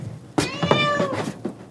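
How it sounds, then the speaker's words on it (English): A cat meows outdoors in a series of drawn-out, wavering cries, fairly close and loud, with no one talking. "It's a cat that I hear outside sometimes"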